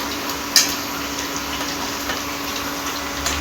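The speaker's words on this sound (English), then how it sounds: "The paneers are getting fried for paneer butter masala" Paneer pieces fry in hot oil for paneer butter masala, giving a steady, dense sizzle that holds at an even level throughout, broken only by a couple of small pops.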